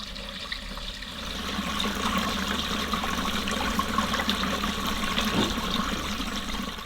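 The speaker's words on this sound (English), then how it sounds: "I want to show you guys how beautiful our creek sounds right now." Creek water rushes and trickles steadily beside a stone house, a continuous close splashing flow with a low background hum, no voices.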